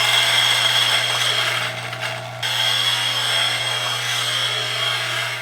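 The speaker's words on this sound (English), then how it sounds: "I'm going to show you guys, how loud this grinder is with and without coffee going through it" A Turin DF83 V2 coffee grinder with big burrs runs with a loud, steady motor whine and hum, briefly dipping before resuming its continuous mechanical drone, with no talk.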